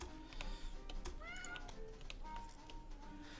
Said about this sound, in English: Cat wants food.